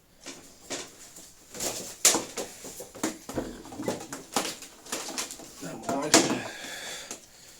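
Sport pigeons for sale coo softly in a loft, with scattered rustles and a few wing flaps around them while someone talks over the birds.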